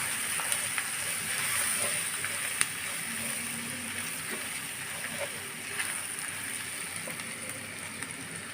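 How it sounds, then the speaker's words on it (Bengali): Soft, steady sizzling of spices with roasted cumin powder sautéing in a pan, a low continuous hiss with faint stirring clicks throughout, no voices. "মশলা সহকারে আমি ভালোভাবে কষিয়ে নেব"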